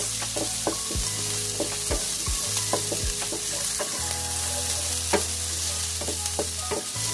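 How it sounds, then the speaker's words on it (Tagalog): Ginger sautés in a little cooking oil with a constant bright sizzle, broken by a series of sharp scrapes and taps as a utensil stirs the pan. "Kunting mantika lang. Palabasin lang natin yung aroma ng ating ginger para mabilis."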